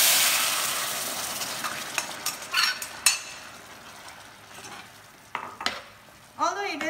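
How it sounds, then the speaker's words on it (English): Long beans added to a hot pan crackle briefly, with intermittent clinks and scrapes of a utensil stirring against the pan; the sizzle fades in and out and there are no voices. "And I'm just going to add my long beans to it."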